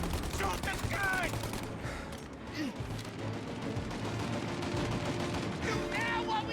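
Gunfire from a shootout in the video game Mafia, a dense, continuous crackle of rapid shots with voices shouting over it throughout.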